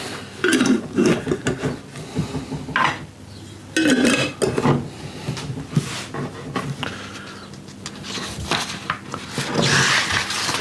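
Glass and metal clink and scrape as a lid is fitted onto a glass jar of oaked bourbon, with rubbing and clattering handling noises, fairly close and busy.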